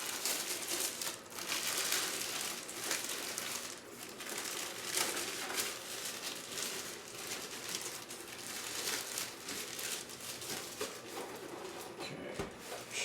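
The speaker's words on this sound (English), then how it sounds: "Just gotta find the bottom of this plastic bag." An old plastic bag crinkles and rustles continuously, close and fairly loud, as a new-in-box 1975 Sharp TV with paper wrapping is unboxed.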